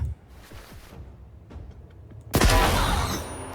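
Gunfire in the video game S.T.A.L.K.E.R., scattered soft thuds and whooshes before one sudden loud blast that rings out and slowly fades.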